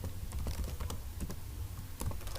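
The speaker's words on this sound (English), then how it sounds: "let me just type here" Fast, irregular clatter of fingers typing on a computer keyboard during a data science coding session, close and fairly quiet, with clusters of keystrokes and short pauses.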